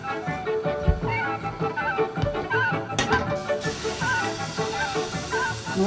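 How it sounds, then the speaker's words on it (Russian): Pancake batter sizzles in a red-hot frying pan, a steady hiss that rises sharply partway through as more batter hits the pan, mixed with clatter and faint background music. "Сковорода должна быть раскаленная. Так, ну что, начинаем печь."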